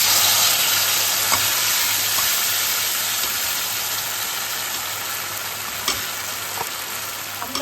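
Ground spice paste sizzling in hot oil tempered with cardamom and cloves for a Rajasthani papad curry, a loud continuous frying hiss with a few faint clinks and stirring sounds, no talk.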